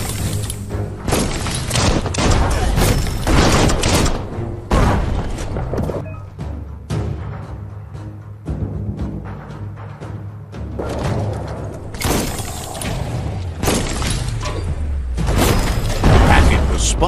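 Bomb lobber explosions in the action game Biomutant, a series of loud booming blasts and crashing impacts spread unevenly across the stretch, with quieter gaps between bursts and voices talking over parts of it.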